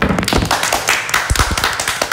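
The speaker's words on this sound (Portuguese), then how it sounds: "Palmas pra Anitta." A studio group applauds during a Brazilian talk show, with brisk, close clapping and slaps in an irregular burst lasting a couple of seconds.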